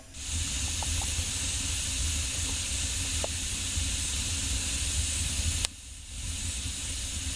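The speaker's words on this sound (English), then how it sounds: "what wet wood looks like and sounds like when you're burning it" Wet firewood burning in a wood stove, giving a loud continuous steamy hiss with a couple of faint crackles, close up, cutting off abruptly near the end to a quieter hiss.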